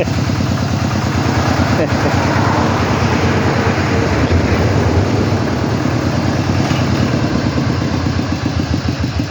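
Farm tractor engine running steadily close by, a continuous low rumbling chug with regular pulsing throughout, with people talking over it.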